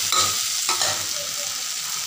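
Potatoes frying in a pan as a ground paste of poppy seeds and green chillies is stirred through them, with a close, steady sizzle and a few scraping stir strokes near the start, no voices.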